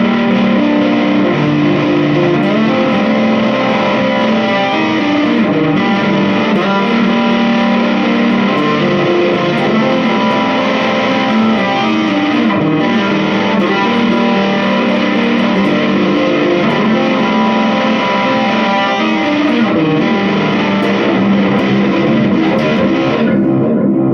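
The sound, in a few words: guitar through JHS Bender fuzz pedal with reverb and delay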